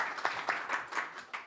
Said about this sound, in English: Big hand of applause for our starters here.